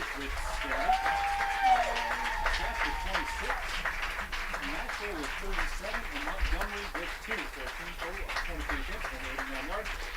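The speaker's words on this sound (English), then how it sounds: "Let's give a big round of applause in recognizing Coach Lynn for this exciting accomplishment." A crowd at a high school football game applauds for a coach, the clapping steady under ongoing talk from a loudspeaker announcer.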